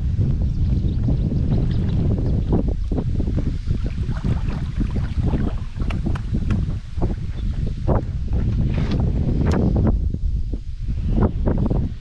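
Wind buffets a microphone on a small fishing boat out on the water, a continuous loud rumbling roar with gusting swells and rustling, no speech, the gusts pushing the boat toward shore.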